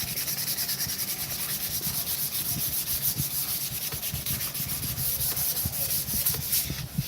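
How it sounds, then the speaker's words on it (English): A wooden gada being smoothed with heavy, coarse sandpaper: continuous steady rasping and rubbing strokes at close range, uniform in loudness throughout with no talking. "Put some hefty lines in this with the heavy sandpaper when I started."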